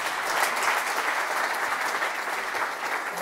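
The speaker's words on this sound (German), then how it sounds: "Ein Applaus, ja." Steady applause from a studio audience at a televised Bundestag election 2021 candidate roast, dense, even clapping filling the whole moment with no voices over it.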